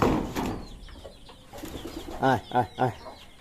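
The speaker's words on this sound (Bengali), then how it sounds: "আর কবুতরগুলো ছেড়ে দেবো এখানে" Pigeons coo nearby in a few soft, throaty bursts, three clear calls toward the end after some faint rustling and murmuring.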